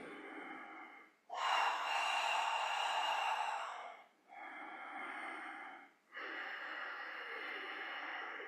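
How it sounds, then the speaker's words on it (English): Slow, deep breathing during a morning yoga exercise: three long, airy breaths, each lasting a couple of seconds, close and fairly quiet with short pauses between them and no talking. "Breathing."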